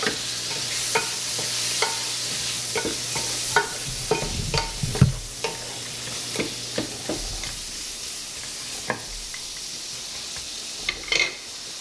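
Food cooking quickly in a hot pan, an even sizzling hiss under a long run of light scraping and tapping stirs, some clustered and some spaced out, heard up close with no voices.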